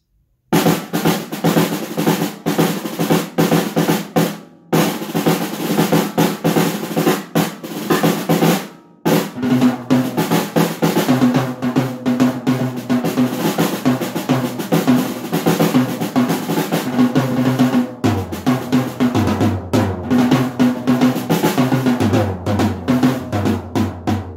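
A budget starter drum kit with inexpensive cymbals and low-end Remo heads, played in a steady groove of kick, snare and cymbal hits, loud and close, with a short pause partway through and no talking.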